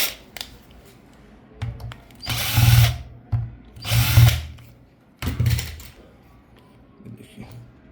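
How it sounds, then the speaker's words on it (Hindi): Cover screws on a Glitter 801H lithium battery spot welder being loosened with a power screwdriver, several short whirring bursts with pauses between them and light handling clicks in the gaps. "ये स्क्रू दोनों खुलेंगे, खुलने के बाद ये ऊपर उड़ जाएगा। मैं खोल के दिखा देता हूँ।"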